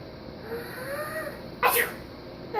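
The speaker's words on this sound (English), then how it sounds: "Achoo!" A person gives a single sharp sneeze partway through, close and fairly loud, after a short quiet stretch.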